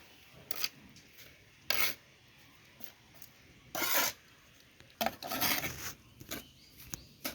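Dry potting soil being stirred and rubbed by hand with tea-leaf fertilizer for a rooftop garden plant, giving soft gritty rasping scrapes in short separate bursts, close and quiet.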